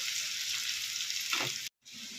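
Onions fry in a pan with a steady, close sizzling hiss, stirred once with a short scraping swish, then the sound cuts out briefly before resuming.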